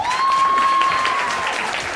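A studio audience on a morning talk show claps in a short, even round of applause, with a thin sustained tone running through the clapping.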